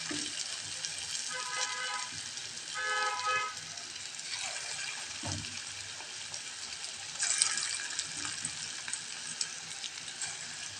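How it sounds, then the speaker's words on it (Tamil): Idli batter bondas fry in hot oil with a steady, soft sizzling hiss, with a few brief stirring or dropping noises along the way and no talking. "பொன்னிறமாக வேக விட்டு செவந்த உடனே எடுத்துடலாம்."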